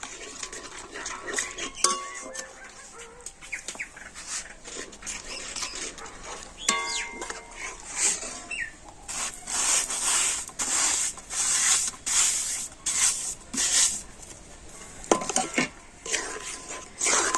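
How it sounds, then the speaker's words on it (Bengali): Powdered rice stirred a little at a time in a hot pan on the stove for chaler sandesh: scraping and rubbing of a spoon against the metal pan, in uneven bursts that grow denser and more continuous partway through, close-up, with no talk. "অল্প অল্প করে চাল দেবো আর নাড়তে থাকবো"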